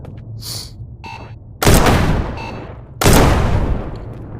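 Gunfire in the VR video game Shotwood: a few light shots early on, then two loud, dense bursts of rapid fire, each lasting over a second and ringing out close and forceful.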